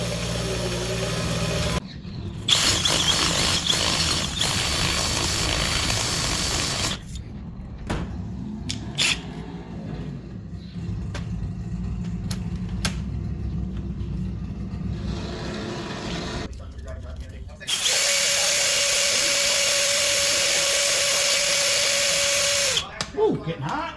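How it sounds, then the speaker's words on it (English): A sandblaster cleans parts from a 1969 John Deere 110 tractor in two loud bursts of hissing blast, separated by a quieter stretch of workshop noise and scattered clicks, with a voice talking in between. "I'll take the rest of it and I'll put it in the sandblaster."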